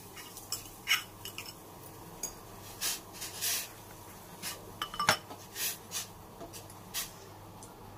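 A utensil stirs jaggery into boiling water for payasam, with intermittent clinks and scrapes against a metal pot over a faint background, moderately close and quiet.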